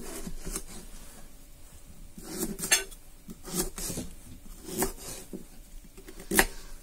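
Knife dicing butternut squash on a board in a home kitchen, a few scattered chops and knocks at irregular intervals, quiet and close with no talk.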